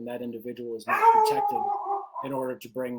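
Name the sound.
dog barking in the background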